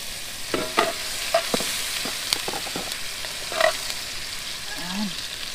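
Onion and tomato sauté in a pan for a smoked fish (tinapa) soup, a soft sizzle punctuated by several clacks and scrapes of a utensil stirring.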